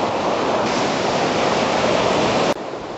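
Waves on the beach at Vero Beach wash in as a steady, dense roar of surf, heard alone at moderate level before a brief dip near the end.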